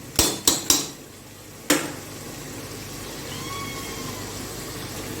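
A spoon clanks sharply against a pot three or four times as four large tomatoes are stirred for Bannu painda, followed by a steady low sizzle of frying.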